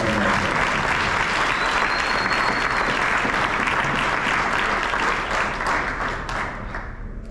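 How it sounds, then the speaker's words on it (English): Sustained audience applause at a high school basketball end-of-year awards banquet, dense clapping throughout that fades slightly toward the end. "let's give one more round of applause for everyone"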